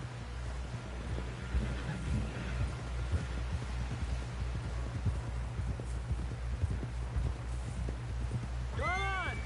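Horse hooves clip-clopping in Red Dead Redemption 2, a steady rhythmic plodding of hoofbeats over a low rumbling game soundscape, with a brief rising tonal sweep near the end.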